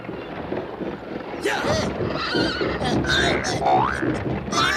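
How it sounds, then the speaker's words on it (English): Cartoon horses neighing aboard a boat, with several shrill whinnies rising over wind and a general background rumble, mixed with voices. "You won't believe this, but they got horses on this boat."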